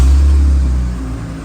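A 5-litre Holden VT Clubsport fitted with an X-Force exhaust revs loud and close, a deep rumbling burst that eases off as the engine settles back toward idle.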